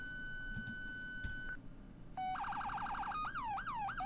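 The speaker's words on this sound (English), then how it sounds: "Just turn on sirens all the time." Police siren in the game Emergency Response: Liberty County switches between tones, first a steady tone, then a rapid warble, then a slower wail. It sounds fairly faint over a low rumble of background noise.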